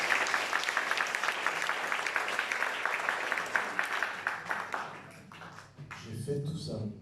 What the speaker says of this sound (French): Mesdames et messieurs, merci d'applaudir